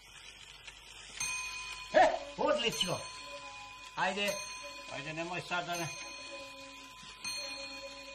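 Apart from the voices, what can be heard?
homemade bell hung on the wall ringing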